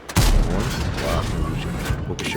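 A heavy tank cannon boom in the video game World of Tanks (Bat.-Châtillon Bourrasque) opens the clip, followed by sustained rumbling mechanical noise and a second muffled thump near the end, with a voice talking over it.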